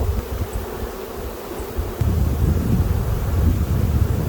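Honeybees hum around an open hive as a frame is lifted out, a steady buzz that grows louder and denser halfway through, with a little wind rustle but no talking.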